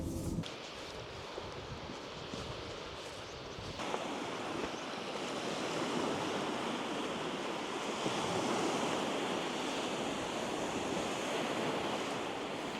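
Waves wash onto a beach in a continuous broad rush of surf, steady and moderately distant, mixed with some wind buffeting and no talking.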